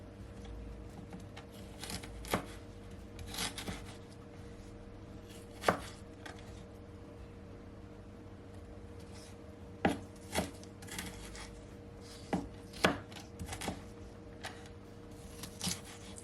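A knife chops fresh ginger on a cutting board for peach juice, with quick irregular clusters of crisp close-up cuts over a quiet steady background hum and no talk.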